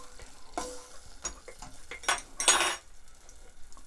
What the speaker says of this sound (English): so the soy sauce and the ketchup and the butter, just give that a mix